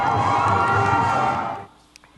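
Crowd of citizens lining a roadside, cheering and whooping loudly in a news report, a dense continuous roar that fades out abruptly near the end.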